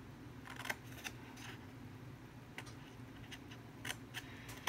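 Scissors snipping paper pieces for an Easter pop-up chick craft, quiet close clicks in scattered short bursts over a low steady background hum.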